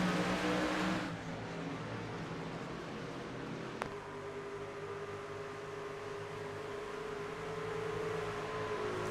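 Race trucks in the iRacing sim at Atlanta accelerate hard off a restart, a dense steady engine roar from the field that dips briefly early on and then holds as a continuous drone.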